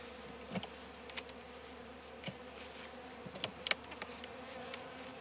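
Honeybees buzz around an open beehive during an early spring inspection, a steady low hum with close passes and brief louder buzzes as individual bees fly near.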